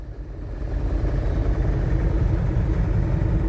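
A farm tractor engine in a video game idles, then rises into a steady, low, throbbing rumble that stays loud and close throughout.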